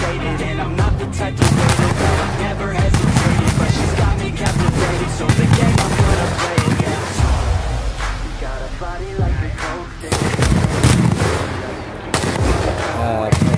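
Long rapid strings of firecrackers crackling and popping nonstop at a Syawalan celebration, loud and close, with a brief lull before the bursts resume; faint voices underneath.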